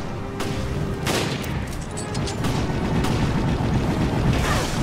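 Gunfire in Resident Evil Revelations aimed at parasite creatures: a few sharp, separated shots followed by a sustained, rumbling barrage, loud and close, with little speech.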